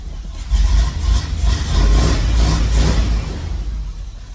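A repaired car engine runs with a new, quieter exhaust, giving a loud, close low rumble that swells briefly when lightly revved and then settles back toward idle.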